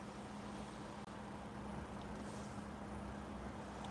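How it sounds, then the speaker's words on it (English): Road traffic passes in a busy tourist area, a faint, continuous wash of vehicle rumble and tire noise with a steady low hum, no distinct individual cars standing out. "Definitely a lot of traffic though."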